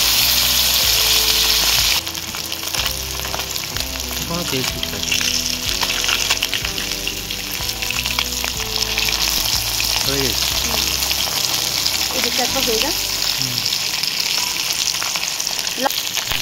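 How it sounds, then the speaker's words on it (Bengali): Fish frying in hot oil in a pan while Bengali fish curry is prepared, a loud continuous sizzle and crackle with occasional clinks of a utensil, steady throughout with no talking. "মাছগুলো ভাজা হয়ে গিয়েছে, বা তুলে নেবো।"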